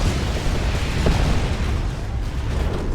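Ork tank buster barrage in Warhammer 40,000: Dawn of War 2, a dense, continuous roar of overlapping explosions and booms that stays loud throughout with no clear gaps.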